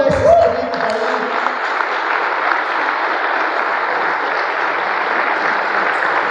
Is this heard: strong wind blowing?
no